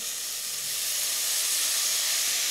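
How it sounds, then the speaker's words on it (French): Cooked snails tipped into a pan of cooking shallots and carrots, giving a loud, continuous, even sizzling hiss that swells slightly and carries on with no voices. "Après une petite minute de cuisson, je rajoute les escargots cuits."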